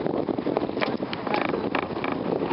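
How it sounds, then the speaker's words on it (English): Wind gusting steadily across an open outdoor setting during horse training, roaring broadband buffeting close on the microphone for the whole stretch with no pauses. "I hope you can hear me over the wind"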